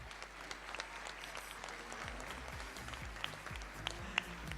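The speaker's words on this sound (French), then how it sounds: "avec Miss Picardie qu'on peut applaudir très fort" Audience applause at a regional beauty pageant crowning the Lily of the Valley Queen in Compiègne, featuring Miss Picardie: steady, moderately distant clapping filling the hall, with a few sharper individual claps toward the end.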